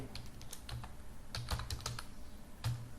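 Keys clacking on a computer keyboard, a quick run of irregular taps with a few brief pauses, close and fairly quiet.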